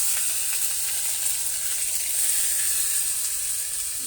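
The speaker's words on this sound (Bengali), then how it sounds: "শুকনো লঙ্কা জিরে ফোড়ন তারপর দিয়ে দেবো টমেটো কষে" Dried red chillies and cumin tempering in hot oil with tomatoes frying in the pan, a steady close hissing sizzle throughout with no talking.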